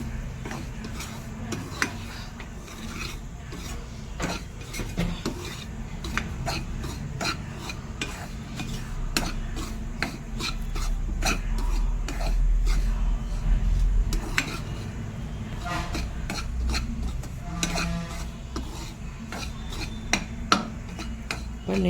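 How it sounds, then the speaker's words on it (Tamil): Semolina (rava) roasting in ghee in a pan while being stirred, a steady run of close scraping and rasping strokes with soft clinks of a spoon against the pan, continuous with no talk. "இப்போ நெய்யிலே 150 கிராம் ரவையை வறுக்கிறோம்."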